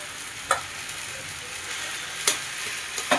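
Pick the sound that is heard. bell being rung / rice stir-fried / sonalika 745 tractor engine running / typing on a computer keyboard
rice stir-fried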